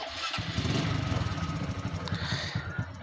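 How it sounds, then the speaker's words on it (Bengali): A Hero Glamour motorcycle engine starts and settles into a steady, close putter with a low, even pulse, running alone throughout. "স্টার্ট দিয়ে আমি এখন সাউন্ড দেখাচ্ছি আপনাদেরকে।"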